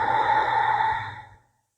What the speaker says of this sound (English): Continue with your big breaths.